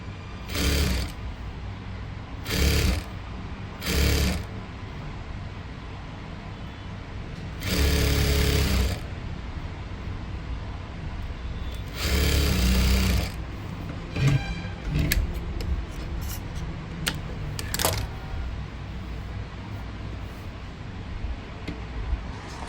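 Sewing machine fitted with a normal presser foot stitching thread piping onto fabric, running in several short loud whirring bursts with pauses between, then lighter ticking and tapping near the end; nobody talks.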